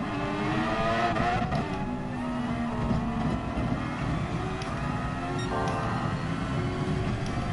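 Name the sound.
Formula 1 car engine accelerating in a PS4 racing video game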